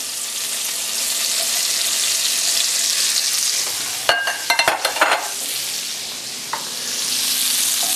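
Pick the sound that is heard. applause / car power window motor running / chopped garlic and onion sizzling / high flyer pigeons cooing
chopped garlic and onion sizzling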